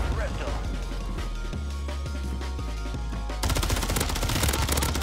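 Rapid automatic gunfire from a video game shooter bursts steadily in sustained machine-gun strings, fairly loud and continuous, growing denser and brighter toward the end with no clear talk over it.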